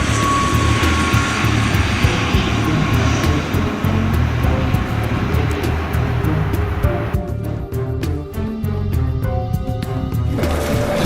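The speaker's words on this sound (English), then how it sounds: "The plane lifts off at 6 a.m." A fixed-wing passenger airliner takes off at 6 a.m., its engines roaring loud and steady throughout with a broad, continuous drone that stays close and does not let up.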